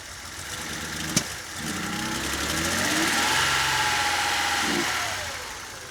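A Z car engine runs on its own fuel supply, idling steadily with a broad mechanical hum that rises and eases once in a gentle rev, preceded by a single sharp click, no talk.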